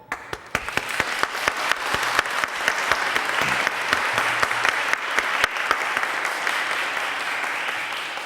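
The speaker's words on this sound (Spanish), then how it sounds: "Aplaudamos este logro." A crowd applauds at a lawyers' swearing-in ceremony before the Supreme Court, with sharp individual claps standing out at first before merging into sustained, fairly loud clapping that runs for several seconds.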